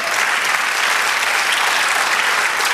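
A church congregation at a sermon claps steadily in a thick, continuous wash of applause with no pauses.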